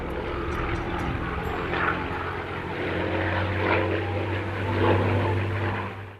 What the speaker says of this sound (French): C'est à bord d'un avion identique à ceux de l'escadron, un Avenger datant de la Seconde Guerre mondiale